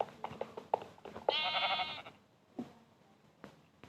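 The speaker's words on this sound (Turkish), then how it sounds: "Normal bir koyunmuş ya." A sheep bleating in a survival video game on an island, one clear wavering bleat in the middle amid soft scattered thumps and clicks of gameplay.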